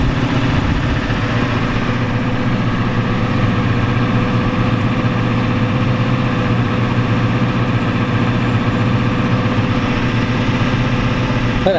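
A 1993 Ford F-250 with a 7.3L IDI diesel engine that is out of time runs near 2,000 RPM, a loud, continuous, close rumbling drone with steady rough vibration throughout.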